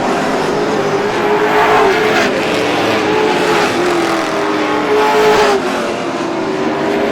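Race cars roar around Star Speedway during a 100-lap event as one car goes sideways. The loud, continuous engine drone rises and falls in pitch, with no voices over it.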